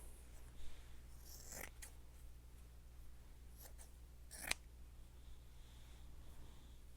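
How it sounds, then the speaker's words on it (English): Scissors snip through gauze in a few quiet, separate cuts close by, against a faint steady background with no talk. "So let me cut some more gauze up."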